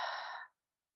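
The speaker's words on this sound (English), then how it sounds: "and exhale" One soft, breathy exhale during a guided breathing exercise, close and clear, lasting about half a second before fading into silence.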